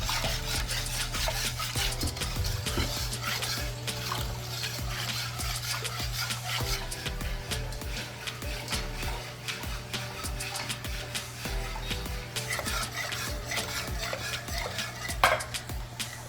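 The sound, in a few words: stirring lemon zest and sugar into bun mixture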